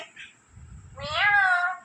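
A single drawn-out, cat-like meow rising and falling, imitated by a parrot, preceded by a short chirp and some low background noise.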